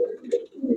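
Pet pigeons coo softly at a pigeon shop, two low throaty warbling phrases with a brief gap between them, fairly close and quiet.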